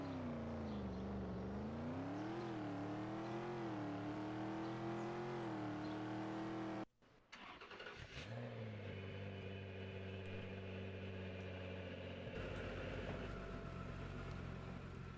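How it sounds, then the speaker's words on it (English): A car engine revs up and down with a wavering whine in a Roblox driving game, then cuts abruptly to a different, steadier engine drone that keeps running. "There's only like 3 different engine sounds in this game."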